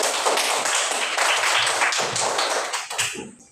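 Classroom children clap their hands in a dense, close burst of applause that runs steadily for about three seconds, then tapers off.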